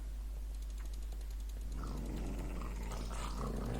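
Wolves (tamed dogs) in the Minecraft video game make low growling and snarling sounds over a steady hum and game noise, busier in the second half, with no talking.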